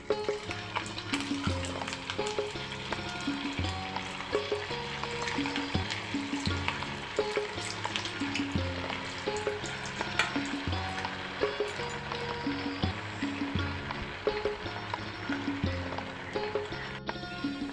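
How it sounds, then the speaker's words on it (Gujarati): Semolina and potato balls deep-frying in hot oil, a steady close bubbling sizzle that holds evenly throughout, with soft rhythmic clinks and no talking. "અને આ બીજા બોલ પણ તળી લઈએ"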